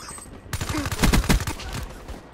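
Automatic rifle fire from the Call of Duty video game on Xbox One, a rapid burst of close, loud shots with a few quieter shots before and after.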